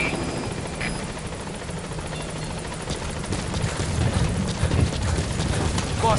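A support helicopter arrives at a landing zone in Metal Gear Solid V, its rotor chop thudding steadily and swelling louder as it closes in.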